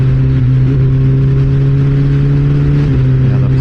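A Kawasaki Ninja ZX-14R motorcycle engine pulling hard under light throttle, a loud, steady droning hum that rises slightly in pitch and holds close to the microphone.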